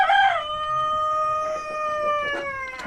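A Jersey Giant rooster crows loudly nearby in one long drawn-out call, followed by faint clucking from other chickens, with no talk.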